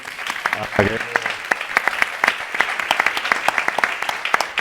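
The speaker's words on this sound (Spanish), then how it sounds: "un aplauso a ese público" Audience applause in a Spanish cultural venue, dense clapping that keeps going for several seconds with a voice briefly heard near the start over the crowd.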